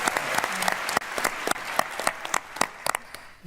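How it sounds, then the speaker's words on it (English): An audience at a PaleyFest television panel applauds, with loose, scattered handclaps ringing out in an uneven rhythm across a large room. "You can applaud that."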